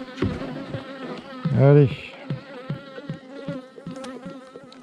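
Honey bees hum around beehives, a steady buzzing drone under someone speaking French, with one louder close pass of a bee near the microphone.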